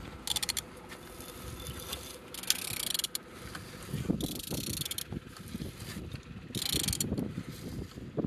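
A large 32V44 marine diesel engine is turned over slowly, giving rhythmic mechanical clicking and ratcheting with periodic bursts of hiss and clanking, moderately close in an enclosed engine room.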